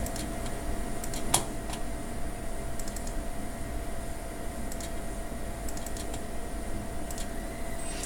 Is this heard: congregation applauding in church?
no